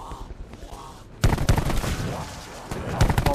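Shotgun blasts in Call of Duty Black Ops 4 Zombies, on the Voyage of Despair map, start after a quieter stretch and come as several heavy booms among dense game noise and clatter.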